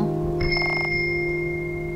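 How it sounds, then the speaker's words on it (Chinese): A bell rings in an RPG video game. One bright metallic chime strikes with a short shimmering burst, then a clear sustained tone hangs over a steady ambient background. "这个地方响了铃铛声哎，跳回去哦。"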